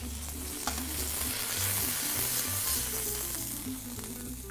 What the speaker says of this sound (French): Donc là, les volailles sont bien saisies de chaque côté.